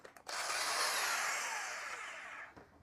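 A cordless rotary hammer drills, a sharp rising whine with a gritty, rasping rattle that holds steady for about two seconds before tapering off, close to the mic and fairly quiet overall.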